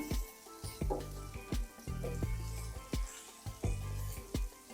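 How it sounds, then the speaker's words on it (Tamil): Bottle gourd stirred into frying tomatoes in a pan: a soft sizzle broken by repeated sharp spatula scrapes and knocks in an uneven rhythm, close and clear. "தக்காளி வதங்கிருச்சு சொரக்காய் சேர்த்துடலாம் சொரக்காய் சேர்த்து நல்லா மிக்ஸ் பண்ணி விடுங்க"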